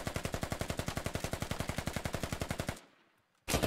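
In the tactical shooter Squad, a sustained automatic burst rattles in fast even rhythm from below, rounds punched up through a floor, ending abruptly in near silence before another loud burst begins.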